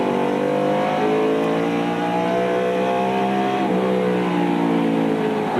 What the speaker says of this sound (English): We can hear him back off the corner, back off the gas.